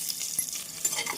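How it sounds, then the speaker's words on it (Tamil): Chopped onions fry in hot ghee and oil with whole spices for chicken biryani, a soft crackling sizzle with light stirring scrapes, faint and short, with no talking. "நெய்யுடன் சிறிது எண்ணெயும் சேர்த்து விடலாம். நெய் காயவும் பிரியாணி இலை, பட்டை, நட்சத்திரப்பூ, கிராம்பு, ஏலக்காய் சேர்த்து விடலாம். நன்றாக பொரியவும் நறுக்கிய வெங்காயத்தை சேர்த்து விடலாம்."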